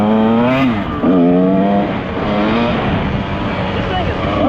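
A 1996 Kawasaki KX125 two-stroke dirt bike engine revs loud and close. Its pitch rises and falls with throttle blips, then settles into a sustained buzzing drone. A voice is faintly audible underneath.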